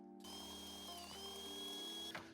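A power drill fitted with a grease-coated bit bores into the body of a Toyota Celica project car, giving a steady, close, high-pitched whine that holds for about two seconds and then winds down.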